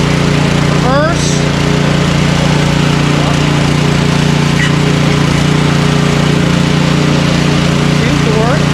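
An Ariens Sno-Tek 24-inch two-stage snowblower runs with its auger and impeller spinning, giving a steady, loud engine drone that continues unbroken from start to finish.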